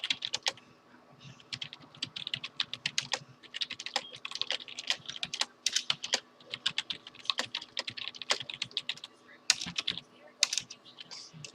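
Rapid typing on a computer keyboard while playing Astonia 3 Resurrection, irregular bursts of crisp key clicks with short pauses between words and a steady low hum underneath, close and clear.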